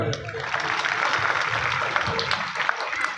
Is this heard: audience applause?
yes